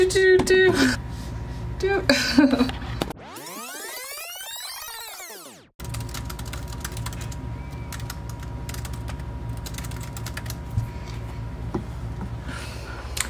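Keys clatter steadily on a computer keyboard during a five-minute writing sprint. A voice speaks over the start, then a sweeping tonal sound interrupts before the rapid, close typing resumes alone.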